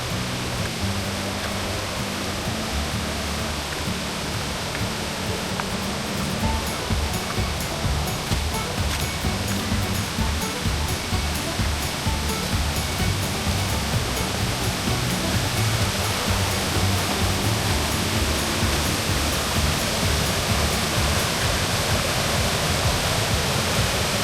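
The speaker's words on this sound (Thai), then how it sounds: "เราเข้ามาถึงก็จะเจอน้ำตกชั้นแรกเลยครับ" A small first-tier waterfall near the trail entrance at Suan Phueng, Thailand, part of a nine-tier falls, gives a steady, close, unbroken rush of falling water for the whole stretch, with no talk over it.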